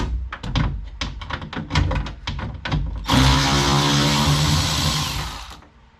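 Bolts being taken out of a Dodge Neon front window regulator, first with a run of sharp clicks and thunks up close, then a steady buzzing whir like a powered driver spinning for a few seconds.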